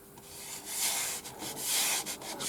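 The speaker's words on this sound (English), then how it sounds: "the actual sanding down process" Steady abrasive rubbing of sandpaper on wood, a continuous gritty hiss that swells and dips in strokes, close up with no talking.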